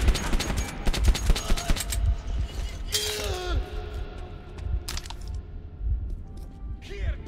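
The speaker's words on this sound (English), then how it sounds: "it's got a silencer on it" Gunfire from a silenced weapon in Metro 2033, a quick string of sharp muffled shots followed by scattered cracks and clatter, with a voice speaking partway through.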